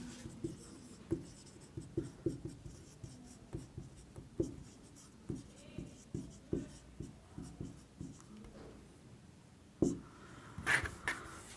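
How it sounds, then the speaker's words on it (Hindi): Chalk or marker writing on a classroom board during a class 10 maths lesson, a steady series of short scratchy strokes in quick rhythm, fairly faint and close, with no talking. "पाइथागोरस थ्योरम से यहाँ लिखेंगे।"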